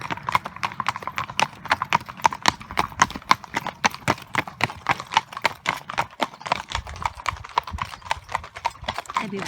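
A string of horses walking past on the Camino Francés pilgrim trail in Spain, hooves clip-clopping in a steady, close, fairly loud rhythm for the whole stretch, with faint voices underneath.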